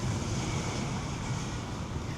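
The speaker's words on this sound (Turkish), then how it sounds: "O deniz dalgalı." Waves on a choppy sea roll in a continuous low roar, mixed with heavy wind buffeting the microphone, with no voices.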